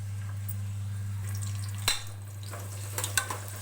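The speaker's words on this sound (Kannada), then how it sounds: "ಎಣ್ಣೆಯಲ್ಲಿ ಚೆನ್ನಾಗಿ ಈರುಳ್ಳಿನ ಫ್ರೈ ಮಾಡ್ಕೋತಾ ಇದ್ದೀನಿ" Onions frying in about three teaspoons of hot oil in a pressure cooker give a steady, soft sizzle over a low electrical hum, with a few sharper clinks and scrapes near the end. No one speaks.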